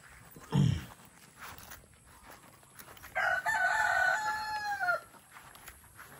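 A rooster crows once, a long wavering call lasting a couple of seconds, preceded by a brief low cluck or thump, with quiet outdoor background.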